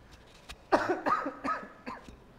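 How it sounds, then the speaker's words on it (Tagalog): A person coughs several times in a short, uneven burst during a church sermon, close by, with soft breathy pauses between the coughs. "Hindi po kasama yung ubo."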